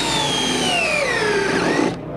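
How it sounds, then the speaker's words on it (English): A Cortex setting tool spins a screw into a decking board with no pre-drilling, a steady high whirring whine that slides downward in pitch as the screw sinks, then cuts off abruptly. "It is comprised of a setting tool that's going to put this screw below the surface about 1/4 of an inch every single time"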